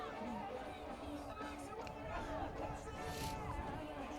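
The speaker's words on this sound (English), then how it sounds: "we have got a big crowd here at Burlington High School" Steady crowd babble from spectators at Burlington High School for a varsity field hockey state final between Franklin and Walpole, a continuous indistinct murmur of many voices at an even level throughout.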